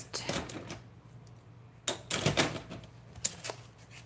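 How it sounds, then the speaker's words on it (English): Scissors or a blade cut through a journal page at close range, making crisp snipping and rasping bursts in three clusters separated by short pauses, moderately quiet, with no voices. "I am going to cut this page"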